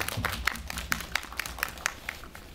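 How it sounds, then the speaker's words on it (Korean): Sparse clapping from a small audience at an independent film screening and talk, a handful of distinct claps rising above low room murmur. "박수만 네, 부탁드리겠습니다."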